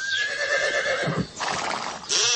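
On a Greek sports radio broadcast, a horse whinnies loudly, a shrill rising and falling cry, followed by a brief burst of hoofbeats and another neigh at the end.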